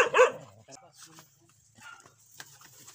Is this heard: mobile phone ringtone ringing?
no